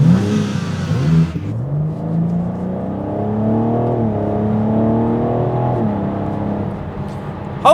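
BMW M4 Competition engine revving hard and accelerating, a loud, close, continuous roar with rising harmonic sweeps, a brief drop as it shifts gears, then pulling strongly again with no talking.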